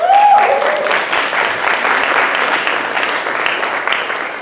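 Room full of people applauding students, dense continuous clapping that starts loud and slowly tapers, with a brief voice at the very start.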